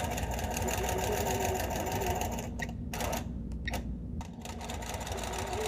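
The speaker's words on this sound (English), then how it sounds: "And we're just going to sew for a little bit here." A sewing machine stitches quilt fabric with a fast, even mechanical whirring chatter, close and steady, pausing briefly in the middle before running on again.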